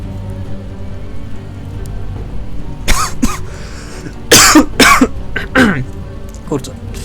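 Several harsh, broadband coughs in quick bursts, a pair early on then a longer cluster of hacking coughs, close to the microphone over a low background hum.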